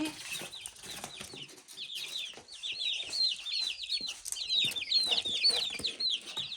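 Many chicks peep continuously in high, insistent chirps, a busy overlapping chorus up close with faint rustling underneath.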